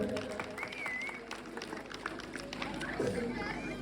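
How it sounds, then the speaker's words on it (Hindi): Audience applause at a Ramleela club gathering, a steady clatter of clapping mixed with crowd chatter and voices, including children, running throughout at moderate level. "जोरदार तालियां इनके लिए हो जाए"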